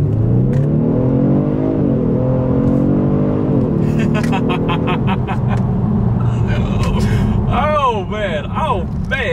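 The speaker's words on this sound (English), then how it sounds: "let's do a quick little acceleration, letting the car do the shifting" A 2020 Genesis G70 sports sedan engine revs hard as it accelerates under automatic shifting, rising in pitch through gear shifts, loud and close, with excited voices chattering over the roar.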